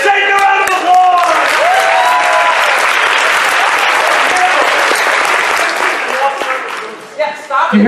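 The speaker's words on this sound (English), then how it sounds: "Guys, give Satan a round of applause!" A furry convention crowd at Anthrocon 2018 erupts in dense, loud applause mixed with cheers and whoops for several seconds, with voices audible at the start and the clapping tapering off near the end.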